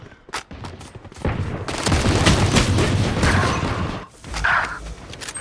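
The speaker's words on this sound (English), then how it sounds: "Grenade!" A grenade blast in the shooter video game Valorant: scattered sharp shots give way to a sustained, booming rumble lasting a few seconds, then a brief silence and another heavy thump, loud and close, with no talk.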